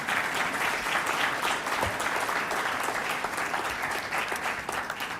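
Audience applause at a university State of the University address, steady dense clapping filling the whole clip at a moderate, even level with no voices.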